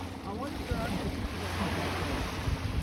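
Waves washing onto the shore at Scarborough Bluffs on a sunny day, a steady broadband surf wash with wind buffeting the microphone and faint voices now and then underneath.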